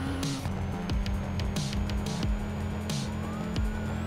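A police siren wails steadily through a cop chase in an anime-style JDM street racing video game, loud and continuous over low engine rumble with no talk.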